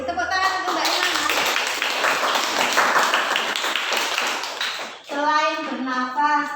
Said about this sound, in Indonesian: Tepuk tangan untuk Mbak Imamah.